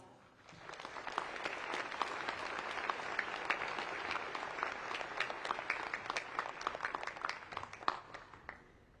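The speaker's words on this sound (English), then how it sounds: "How about a round of applause?" At the inauguration of Hawaii Governor Josh Green, an audience gives a sustained round of applause. Dense clapping swells after a quiet start and holds steady and moderately loud throughout.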